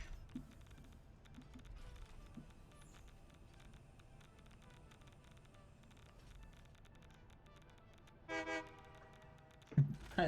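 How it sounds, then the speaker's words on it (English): A train horn sounds in the factory-building game Satisfactory, a short loud blast near the end that rises above steady machinery hum and a low rumble, with a brief sharp tone just after. "I love the train horn."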